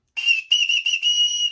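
An emergency whistle is blown in four quick, shrill blasts at close range, each bright and piercing, separated by very short gaps, with the last blast held longest.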